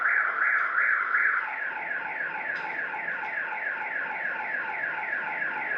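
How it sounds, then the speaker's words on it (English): A car alarm blares close and loud, cycling through rapid repeating warbling tones in a steady pattern. The pattern shifts after about a second, and the alarm keeps sounding alone throughout. "It's reacting to the car alarms."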